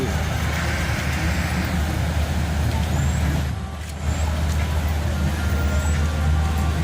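Busy evening street traffic at Half Way Tree, with trucks, buses and cars rumbling past and a brief hiss of air brakes, heard up close as a steady roar.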